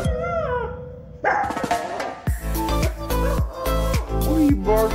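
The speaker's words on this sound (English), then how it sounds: "What are you barking at?" A dog barks, yips and howls up close in a run of loud, irregular bursts, some drawn out and whining, with no talk over it.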